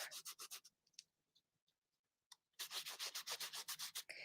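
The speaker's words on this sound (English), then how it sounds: "Just grab a little bit of ink. So the ink is the same color as the cardstock. And I just kind of went along and lightly colored over the top." Ink applied lightly by rubbing over embossed cardstock for a pumpkin card, giving close, rhythmic scratchy strokes in two bursts with a quiet pause between, no talking.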